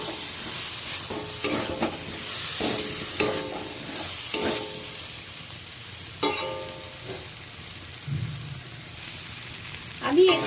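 Jackfruit and shrimp curry with turmeric, chili powder and a splash of water is stirred and sautéed in a pan, with repeated close spatula scrapes in bursts over a soft, steady sizzle.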